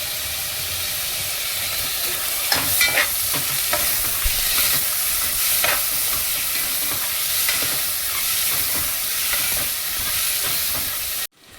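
Tomatoes sauté in a hot pan with a continuous loud sizzle and hiss, while a spoon stirs and scrapes through them in irregular strokes before the sound cuts off abruptly.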